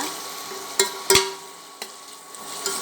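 Onions sizzle steadily in a hot pan, with a few sharp clanks of a spoon stirring against the metal.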